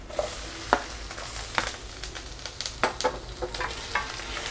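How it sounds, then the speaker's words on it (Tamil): Green chillies and tomatoes sauté in a pan. A gentle sizzle runs underneath while a spatula scrapes and knocks in uneven strokes, close by and moderately loud. Nobody speaks. "அதுக்கப்புறம் தக்காளியும் போட்டு நம்ம நல்லா வதக்கிக்கலாம்"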